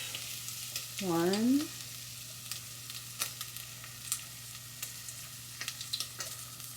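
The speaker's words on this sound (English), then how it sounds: "Stir it, and you have to check after you stir if that oil is enough or not." Food stirred as it fries in oil for pilau makes a steady low sizzle, with light spoon clicks and taps scattered throughout; a voice briefly speaks and a short rising vocal sound comes early on.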